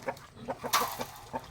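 Hens of a Dekalb Brown and Rhode Island Red breeding flock cluck in a short burst of soft, rhythmic clucks at close range, with one sharper call partway through and no talk over it.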